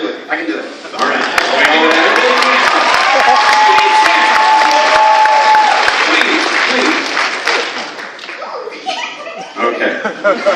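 A convention crowd at a comic and fan event bursts into loud applause and cheering, with laughter and chatter mixed in. The sustained clapping swells for several seconds, then thins out as voices take over.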